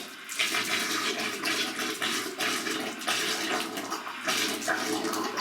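Water sputters and gushes steadily out of an estate pipe line, a loud continuous rushing splash with uneven surges throughout.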